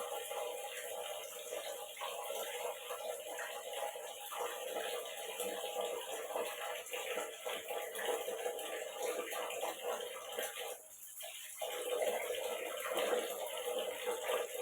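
Tap water running steadily into a sink while fish is being cleaned, a faint continuous hiss and splash with a brief dip partway through, and a voice briefly in the background.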